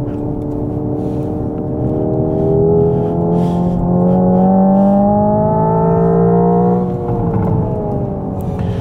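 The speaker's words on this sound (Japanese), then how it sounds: "すごいバブリングも派手すぎです。" Hyundai IONIQ 5 N with synthesized exhaust bubbling, a loud, close, rising and falling engine-like drone with crackling pops as it revs and lifts off, alone without talk.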